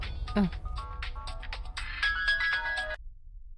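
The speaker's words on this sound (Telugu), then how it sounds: "దుర్గమ్మ, ఎమ్మెల్యే గారి వైఫ్ ఫోన్ చేశారు." A mobile phone rings with a melodic electronic ringtone for an incoming call in an indoor household scene, playing for about three seconds before cutting off abruptly, with a voice briefly over the start.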